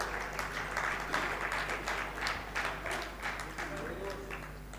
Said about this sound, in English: big clap for him